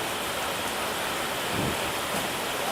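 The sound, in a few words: heavy rain falling on a football match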